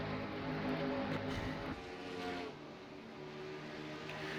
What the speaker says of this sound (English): As it sounds like there's a car in front of them